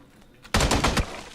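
In an online shooter video game, a short burst of rapid automatic gunfire rattles out loudly and abruptly, lasting about half a second before a quieter tail.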